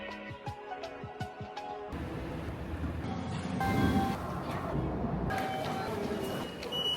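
Tokyo metro train noise just after leaving the subway, a steady rumbling roar with brief high squeals and tones, loudest midway, with people talking over it.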